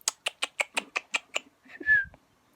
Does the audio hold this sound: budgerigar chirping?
yes